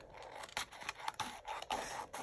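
Scissors snip repeatedly through something while unboxing Christmas planner supplies, giving close, soft crunchy cuts in a quick uneven rhythm over a faint background hiss.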